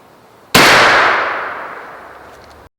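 A Stevens Model 301 .410 gauge turkey shotgun fires a single loud shot outdoors, a sharp blast followed by a long decaying ring.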